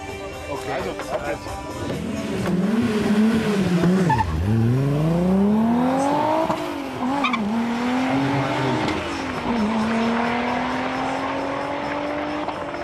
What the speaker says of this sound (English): Now the Golf only needs to have a perfect start.